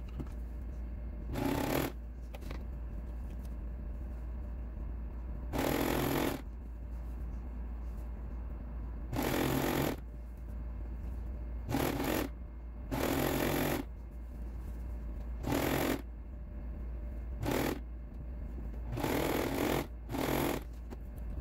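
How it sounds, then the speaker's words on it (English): A sewing machine joins two pieces of a summer dress, running in repeated short bursts of whirring stitching over a steady low hum, with pauses between runs. "then I'm going to sew both pieces together, and then I will sew this elastic"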